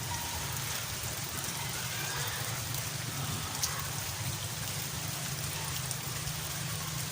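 Steady rain pours continuously, a dense even hiss with low drumming underneath, unchanging throughout with no talking.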